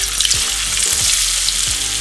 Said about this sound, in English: just fry them. But like, again, go careful